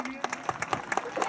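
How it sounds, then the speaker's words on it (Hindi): A lakeside army evening gathering breaks into brief applause, a short burst of scattered claps heard close over a voice. "एक बार जोरदार तालियां इनके लिए।"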